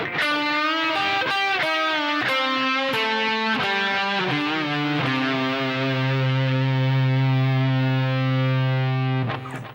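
Distorted electric guitar plays a phrase from a guitar solo, with a run of quick picked notes and bends that settles into a long sustained note ringing out alone before a final pick at the end.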